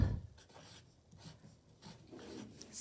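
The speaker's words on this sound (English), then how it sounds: "you can grab that and a pencil and write this right along with me" A pencil scratches across the paper of a notebook in short, soft strokes with brief pauses between them, faint and close, with no voices.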